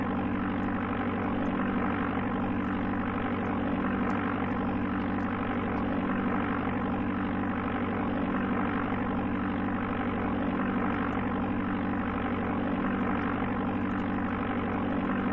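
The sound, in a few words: aircraft engine in Amiga video game Flight Simulator II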